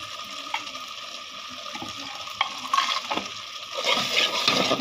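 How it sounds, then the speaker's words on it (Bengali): Spices such as garam masala and cardamom being stirred in a pot while cooking chicken Dhakaiya biryani, a steady scraping and sizzling that grows louder toward the end, with no talking. "এখন আমি এগুলোকে নাড়িয়ে চাড়িয়ে নিচ্ছে।"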